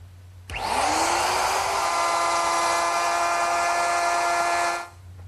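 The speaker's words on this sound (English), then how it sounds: "To make the dado, I'm going to use my router, which is equipped with a collar and a straight cutting bit." A router fitted with a straight cutting bit and a guide collar cuts a dado in wood along a straight-edge clamp. It spins up sharply into a loud, steady high whine that holds for about four seconds, then stops.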